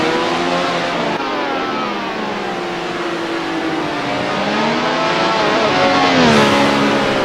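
Ferrari 312T Formula One car in a racing video game at Monaco, its high-pitched engine screaming steadily and rising and falling through gear changes, loud and continuous without pause.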